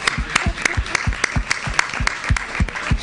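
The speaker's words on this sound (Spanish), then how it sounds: "Un aplauso para Chema" An audience at a book presentation claps in a steady burst of applause, the individual claps sharp and fairly close, with a faint murmur of voices underneath.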